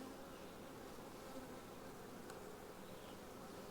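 Steady, dense buzzing of many honeybees swarming around a hive nearby, a continuous droning hum with no pauses.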